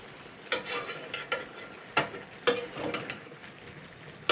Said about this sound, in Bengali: এইগুলো দিয়ে এবারে সবজিগুলো দিয়ে আমি ভালো করে কষিয়ে নেবো